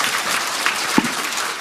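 Loud, steady applause at a Democratic Party new-members academy in Korea fills the brief stretch, a dense crowd clapping with a couple of sharper individual claps standing out.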